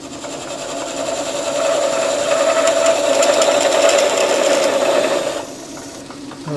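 A metal lathe cuts a relief groove where the threads end: a steady close mechanical whine and buzzing hum that swells for several seconds, then drops back to a quieter idle as the cut stops.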